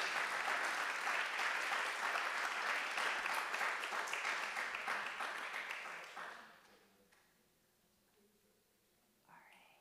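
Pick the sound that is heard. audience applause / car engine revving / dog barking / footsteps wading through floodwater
audience applause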